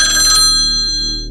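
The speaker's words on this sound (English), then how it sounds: "The phone rang at 2:17 a.m." A telephone rings in a roadside motel office at night: one loud, close electronic ring that fades out at the end, with no voices.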